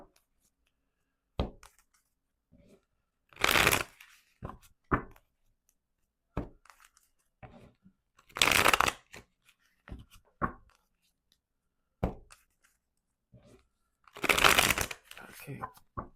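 Tarot cards being shuffled in three quick riffling bursts, close and crisp, separated by softer taps and handling sounds in a quiet room.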